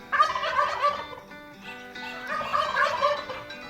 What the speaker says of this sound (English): Meleagris gallopavo, the wild turkey, today's Talkin' Birds featured feathered friend